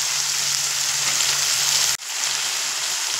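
Cashews, raisins and nuts fry in a pan of hot fat, a loud, close, continuous crackling sizzle with a brief sudden dip midway before the hiss resumes, no voices.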